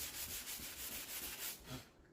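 Sandpaper rubbed by hand over primer on a car body panel in windy open air, a steady rasping scrape in repeated back-and-forth strokes, fairly loud and close with no talk.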